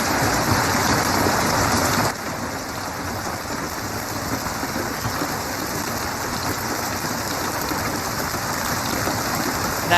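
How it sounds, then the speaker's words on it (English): Hail slightly larger than a golf ball pours down in a storm near Minneapolis, a dense, steady roar of impacts with a brief louder stretch at the start, no talking. "This video shows hail slightly larger than a golf ball, around 1 inch and 75."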